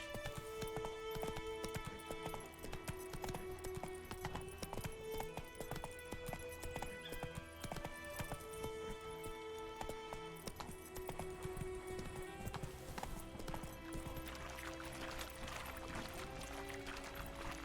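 Roach the horse gallops in The Witcher 3, hooves pounding in a fast, rhythmic clip-clop with an occasional whinny, under a layer of game music.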